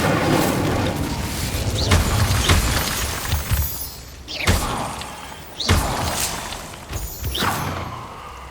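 Several Incendio fire spells are cast in Hogwarts Legacy. Each lands as a sharp whooshing blast with a thud, spaced a second or so apart over a rumbling game background.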